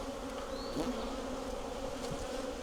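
Honey bees hum steadily around an opened hive with a dark queen, a continuous close drone of many wings with no pauses.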